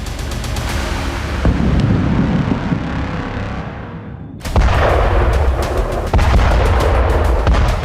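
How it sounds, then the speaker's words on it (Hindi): Heavy Israeli airstrike bombardment in Khan Younis, south Gaza, rolls as loud, continuous booming and rumbling, with a fresh blast surging in partway through. "एक के बाद एक एयर स्ट्राइक से इजराइल की एयरफोर्स ने इस पूरे इलाके को दहला दिया।"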